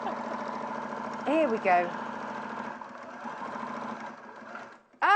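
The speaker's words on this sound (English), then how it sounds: "So frantically sewing here." Sewing machine stitching fabric on a live sewing show, a steady close mechanical whirr running almost throughout, with someone talking over it and a brief pause just before the end.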